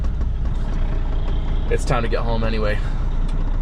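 A semi truck pulls away, its diesel engine a steady low rumble close by from inside the cab, while a person speaks briefly over it.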